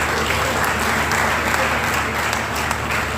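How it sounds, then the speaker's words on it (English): A large audience gives sustained, dense applause for a lecturer at an inaugural lecture of the Nigeria French Language Village, the clapping blending into an even, continuous roar with faint crowd murmur. "A round of applause for him."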